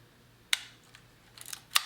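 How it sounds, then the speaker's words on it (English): Mechanical shutter of a budget 35mm film rangefinder firing at 1/500 s, two sharp close clicks about a second apart with a faint rattle in between. "let's set to 1/500th of a second and let's test the shutter speeds"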